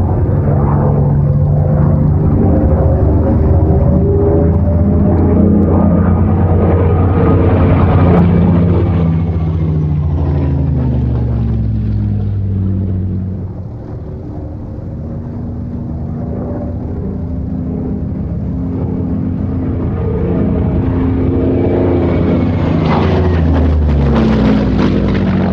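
Messerschmitt Bf 109 G-2 fighter in flight at maximum continuous power, its piston engine giving a steady, loud droning roar with harmonic tones that swell and shift slightly in pitch, continuous throughout with no voices.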